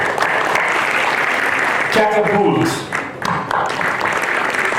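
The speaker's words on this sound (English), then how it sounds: "Please give a huge round of applause to Emote Ventures, our title sponsor, everybody" A college entrepreneurship summit crowd applauds sponsors in a dense, continuous round of clapping, while a host speaks briefly over it midway and a short burst of tonal sound cuts in.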